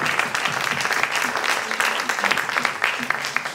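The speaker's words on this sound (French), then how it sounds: "Vous les applaudir bien fort" Audience at a student short-film awards ceremony applauding loudly and steadily, dense continuous clapping throughout with no pauses.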